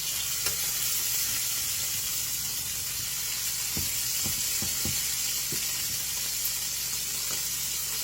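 Steaks sizzle in hot oil in a pan, a steady close frying hiss with a few brief clicks and pops and no talking.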